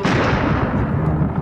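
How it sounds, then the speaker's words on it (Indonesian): Thundering cannon fire at sea as a pirate ship attacks a merchant vessel loaded with trade goods, a dense, continuous low rumbling barrage that stays loud and booming throughout, with no talk over it. "Ketika tiba-tiba dikejutkan suara meriam yang menggelegar."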